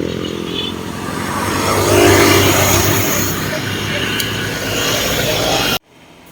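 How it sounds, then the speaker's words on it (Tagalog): Road traffic passes along a seaside road, a loud, continuous engine rush that swells as vehicles go by close to the microphone, then cuts off abruptly. "Lots of traffic, guys, as you can see."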